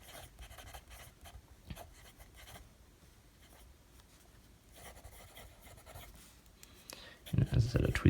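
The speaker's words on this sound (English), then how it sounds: "Now let's do some writing with this. Here it is in the TWSBI Eco with a broad nib." Broad-nib TWSBI Eco fountain pen scratching softly across paper in faint, irregular strokes, with a louder scuffing burst near the end.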